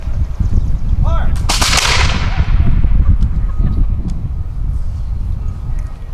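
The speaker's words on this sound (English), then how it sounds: "Aim! Elevate! Fire!" A reenactment raid at a historical village brings one loud, close musket or cannon volley as a sharp crack and a broad blast, then fades into a low rumbling tail with outdoor noise.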